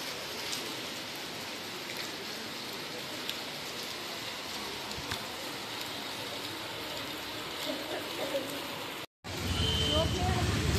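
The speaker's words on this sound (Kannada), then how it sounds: "ಹಾಗೆ ಫುಲ್ ಮಳೆ ಬರ್ತದೆ ನೋಡಿ" Heavy rain pours steadily at Kanyadi, a temple town, a dense, even hiss that runs throughout, cuts out briefly near the end and returns louder and closer; voices talk over it.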